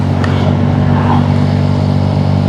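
A Yamaha Aerox V3 scooter engine hums steadily at close range as it is given gas, a continuous mid-pitched drone with little change in pitch and no voices.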